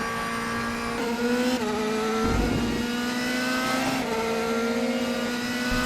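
A DTM race car in the RaceRoom sim races at Hockenheimring with a steady, loud engine drone. A thin whine appears as the DRS opens, with small pitch shifts when the gears change and no talking.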